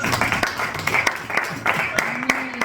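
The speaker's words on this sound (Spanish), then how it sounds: "Dale un aplauso al Señor." A church congregation claps along, with irregular bursts of hand claps beneath lively voices and cheering, fairly close and moderately loud.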